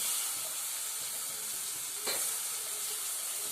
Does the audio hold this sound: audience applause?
no